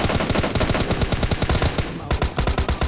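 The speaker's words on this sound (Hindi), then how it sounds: "अब ये गन से मैं अभी बंदों को बहुत भरता हूँ।" Automatic gunfire in PUBG Mobile Lite, a fast, steady burst of loud, close shots that continues almost without a break.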